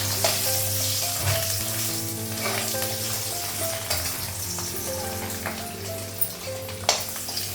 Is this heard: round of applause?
no